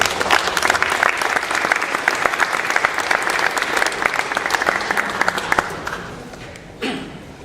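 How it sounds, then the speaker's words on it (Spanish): An audience greets professor Emilio Huaman at a lecture with loud, sustained applause that holds steady for about six seconds before thinning out, followed by a brief final burst of claps. "a quien le recibimos con un fuerte aplauso"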